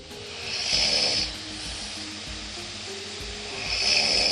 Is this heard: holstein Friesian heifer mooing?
no